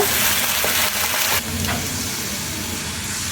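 Milk poured into sizzling masala for Bengali egg korma, a loud hiss of frying that drops and settles into a softer, steady simmer after the pour.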